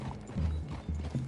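Horse hooves clip-clop in a Red Dead Redemption 2 game scene, a few soft, uneven thuds heard close and quiet, with no voices over them.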